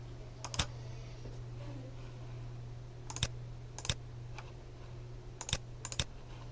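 Keys tapped on a computer keyboard while a password is entered, in short scattered clusters of close, crisp clicks over a steady low electrical hum, with no voices.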